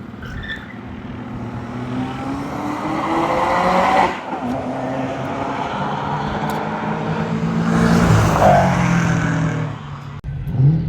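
Race cars lapping an autocross course at a time attack event at Atlanta Motorsports Park, engines droning and shifting pitch as they accelerate and pass, with brief tire squeal, heard from a moderate distance throughout.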